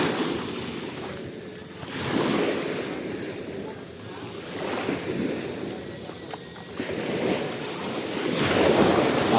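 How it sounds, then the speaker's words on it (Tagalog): Rough sea waves surge and break close by in stormy conditions near a large damaged boat under repair, with gusting wind buffeting the microphone throughout; no one speaks. "Maalon."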